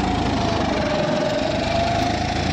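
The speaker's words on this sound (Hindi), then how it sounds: "लोड भी काफ़ी मांग रहा है ट्रैक्टर अपना" A John Deere 5310 tractor engine labors under heavy load while pulling an implement in a field, giving a loud, steady, throbbing drone that holds constant throughout with no pauses.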